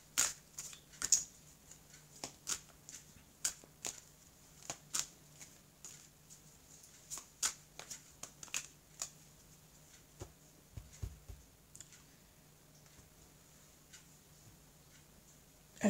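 A deck of oracle cards is cut and shuffled by hand in a quiet room. Soft, irregular ticks and snaps of card edges come in short clusters, then go quiet before a last click.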